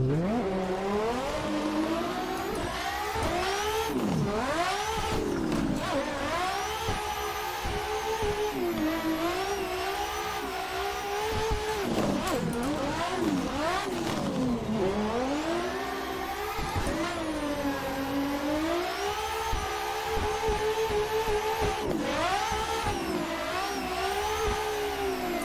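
A race car in the Assetto Corsa video game during a VR practice session drones and whines continuously as the engine rises and falls through repeated upshifts and downshifts, fairly loud and unbroken, with no talking.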